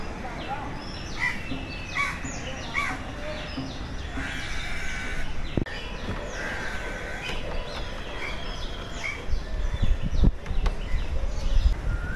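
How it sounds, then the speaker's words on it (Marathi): Various birds call and chirp along the elevated Tree Top Walkway at Malabar Hill, scattered short calls and caws over steady outdoor background noise, with some distant human activity mixed in. "विविध पक्ष्यांचे सुंदर सुंदर आवाज तुम्ही इथे ऐकू शकता"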